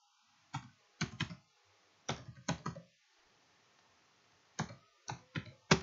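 Sparse bursts of typing on a computer keyboard, with clusters of two or three sharp key clicks separated by quiet pauses, close and fairly soft in a quiet room.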